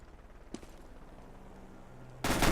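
PP19 submachine gun fire in Counter-Strike: a sharp shot near the start, then a loud, rapid automatic burst breaks out toward the end over quiet background game noise.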